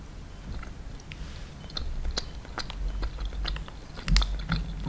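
Someone chews a sticky sweet with a soft filling in the middle, giving close, moist smacking and squelching bites at an uneven rhythm, with a sharper crunchy bite near the end and no talking.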